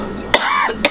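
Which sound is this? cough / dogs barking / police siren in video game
cough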